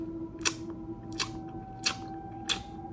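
A voice imitates someone chewing in a hospital maternity ward, making four evenly spaced, crisp clicking smacks about every 0.7 seconds over a quiet, faint background hum.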